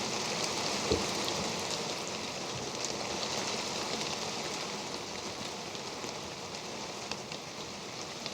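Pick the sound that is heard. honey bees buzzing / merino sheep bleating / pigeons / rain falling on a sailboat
rain falling on a sailboat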